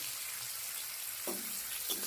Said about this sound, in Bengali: চিংড়ি মাছটা হালকা লাল লাল করে ভাজা হয়ে গেছে